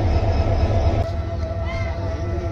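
A train standing at Bhairab railway station, a loud low rumble with a steady hum and faint tonal whine, close by, with no clear talk.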